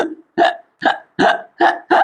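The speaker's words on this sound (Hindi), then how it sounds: "हिचकी क्यों आती है, हिकअप्स क्या लिखा है, हिकअप्स लिखा है ना, यानी हिक हिक की आवाज आते हैं" A run of six hiccups, close and loud, coming in a steady rhythm roughly every third of a second with short silences between.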